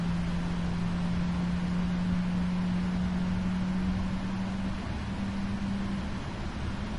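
A jet airliner engine runs steadily just after start as N1 stabilises, holding an even, continuous hum and broad whoosh with no voices.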